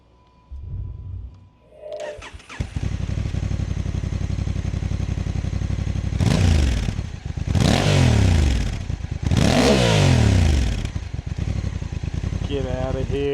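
Honda NT1100 DCT parallel-twin motorcycle engine starting, idling, then revving hard in three loud rising-and-falling bursts near the end, close by and steady between revs.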